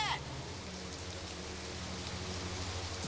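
Steady rain falls at an outdoor film shoot by a boat, a soft, even hiss of drops that holds at a fairly low level throughout without clear talk.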